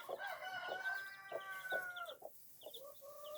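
A mother hen with her three-day-old chicks: soft repeated clucks and thin high peeping from the chicks, close by and fairly quiet, with no talk.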